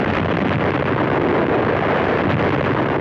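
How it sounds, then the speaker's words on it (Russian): Thunderous broadband roar of the 1961 Soviet hydrogen bomb explosion, a continuous, loud rumbling blast with wind-like turbulence that sustains without pause. "Планета трижды содрогнулась от ударной волны, вызванной взрывом невиданной мощности."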